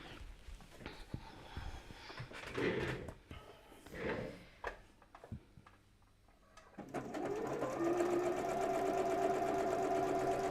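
A sewing machine stitches a shirt seam: a few seconds of clattering handling and short bursts, a brief pause, then a loud steady whirring run as the zigzag stitch goes along the edge, heard close up.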